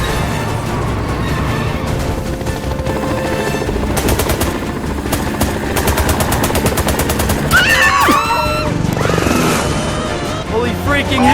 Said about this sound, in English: Central, we are under fire! I repeat, under fire!